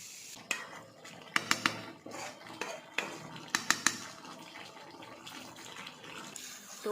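Chicken being sautéed in a pot, with sharp metallic clinks and taps of a spoon against the pan over a low frying hiss, irregular and close.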